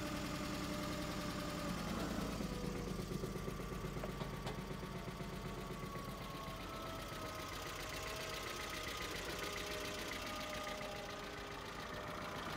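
Car engine with 171,000 miles and a check engine light on, idling with a steady low hum and a faint knocking, rough texture, close and continuous throughout without talk.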